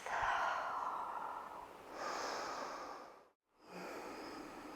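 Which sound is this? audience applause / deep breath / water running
deep breath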